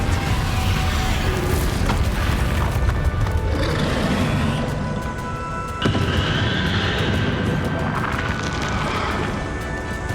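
Magic spell blasts and crashing impacts from Hogwarts Legacy, a dense, loud wash of booms and rumble running continuously with a sharp burst near the middle, over busy game effects and music.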